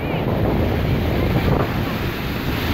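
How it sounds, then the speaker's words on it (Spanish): Strong, aggressive ocean waves crash along the Nagua seafront in the Dominican Republic on a cloudy afternoon, a continuous loud surf roar mixed with gusty wind buffeting the microphone, with no voices. "aquí el calor no se siente por la fuerza de las olas, unas olas que están pues muy agresivas."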